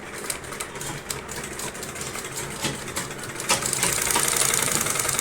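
A sewing machine stitches inside the border of a sweetheart neckline, with rapid mechanical chattering that steadies into a louder, continuous run partway through.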